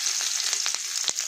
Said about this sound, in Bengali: তেলটা গরম হয়ে গেছে, দিয়ে দেবো রসুন